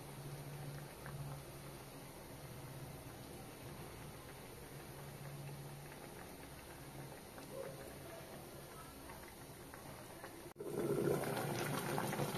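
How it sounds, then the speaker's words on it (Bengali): Gravy for begun sundari, an eggplant curry, bubbling at a steady simmer in a pan, a soft continuous boil that grows louder and busier near the end. "গ্রেভিটা আমার ফুটে গেছে"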